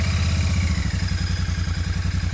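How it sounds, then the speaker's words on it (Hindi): A Royal Enfield 650cc motorcycle idles close by, its exhaust giving a loud, steady, bassy thumping beat throughout. "सो इसका भी एक बार आपको एग्जॉस्ट नॉट सुना देता हूँ कैसा है।"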